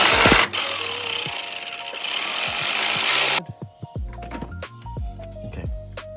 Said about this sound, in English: Let's bolt this down.